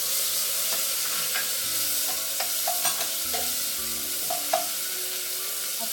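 Onion and tomato sautéing in a pan for pork spareribs caldereta, a steady sizzle and hiss with intermittent scraping stirs and small clicks of the utensil against the pan.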